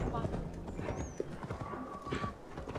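Horse hooves from the Assassin's Creed Valhalla game: a rhythmic clip-clop of riding, moderately close and fairly quiet, heard under someone talking throughout, with a brief whinny-like tone.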